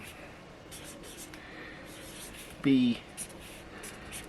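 Pen writing on paper, soft scratchy strokes and rubbing under intermittent talk, with one brief louder squeak partway through.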